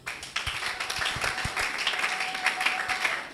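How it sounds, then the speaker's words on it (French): A church congregation applauds and claps during a French-language sermon, a steady, dense wash of hands with a few sharper taps, sustained throughout. "Acclamons pour la gloire de notre Dieu."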